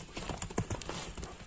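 Hooves of a three-year-old horse clip-clopping in a quick, uneven series of close, distinct knocks without any talking.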